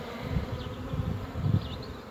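Honey bees hum steadily around an open hive as the frames are lifted out, a soft continuous drone close to the listener with no talking.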